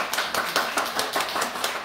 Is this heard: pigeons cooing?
no